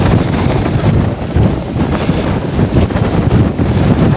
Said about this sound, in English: we're up to 30 mile an hour winds now